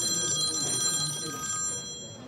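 A telephone rings with a steady, moderately loud electronic trill that fades slightly toward the end, in a documentary about Covid-19 in France as a journalist calls a doctor.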